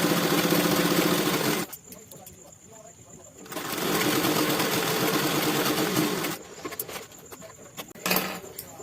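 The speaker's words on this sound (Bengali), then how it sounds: "এই দাগ বরাবর এবার আমি ফিটিংসের সেলাইটা দিয়ে দিচ্ছি।" A sewing machine runs a fitting seam along a marked line on a kaftan kurti, stitching in two bursts of rapid buzzing chatter separated by a pause, with a final short run and faint background noise between.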